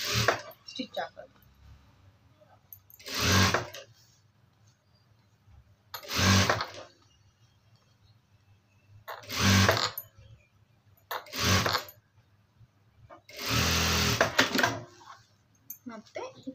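A sewing machine stitches a sleeve, starting from the shoulder seam, in five separate loud bursts of steady whirring a second or more long, with quiet pauses between and a voice heard only faintly at the start.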